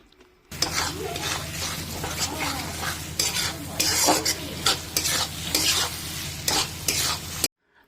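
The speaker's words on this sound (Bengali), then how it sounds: "এই টমেটোটা দিয়ে আমাদেরকে ততক্ষণ অবধি কিন্তু কষতে হবে যতক্ষণ না এই টমেটোগুলো একটুখানি নরম হয়ে যাচ্ছে" Chopped tomatoes sizzle in hot oil with chicken gizzard masala, a spoon stirring and scraping the pan in irregular bursts over a constant close frying hiss.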